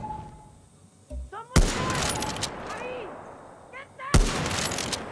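Sniper rifle fire in Far Cry 6, two sharp loud broadband shots about three seconds apart, each with a ringing tail, over game ambience with faint whistling sounds.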